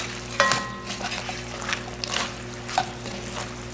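Fried mushrooms stirred through chili sauce in a hot pan, a soft continuous sizzle broken by a few scraping strokes of the spoon, close and moderately quiet.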